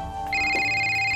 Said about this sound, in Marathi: अरे फोन.